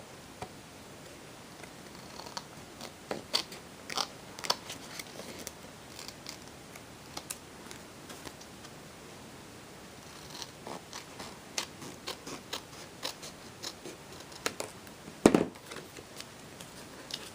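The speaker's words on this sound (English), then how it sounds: "I'm going to flip open my card here, take my scissors" Scissors trim excess card stock after inking, a series of quiet, crisp snips and clicks scattered across a soft room background, with one sharper cut near the end.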